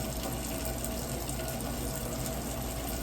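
Hot water runs steadily from a sink tap during handwashing in a kitchen, a continuous close rushing hiss with no talk.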